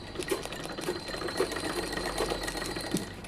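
Sewing machine running steadily at close range while stitching the side seam of a dress, a fast, even mechanical whir with light rhythmic ticking, fairly quiet and without talk.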